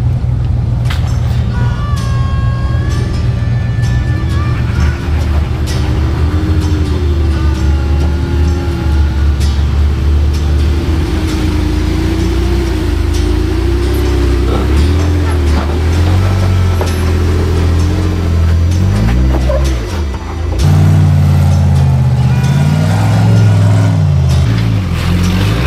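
Off-road vehicle engine revving on a rocky Moab trail in Utah, a loud, close, sustained roar that rises and falls with throttle and climbs sharply near the end, with no speech.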